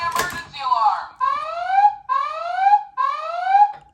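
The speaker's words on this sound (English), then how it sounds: "Holy emergency alarm!" A Matchbox Action Drivers Volcano Escape toy playset sounds a loud electronic alarm: three repeated rising siren sweeps, each about a second long, after a brief spoken exclamation at the start.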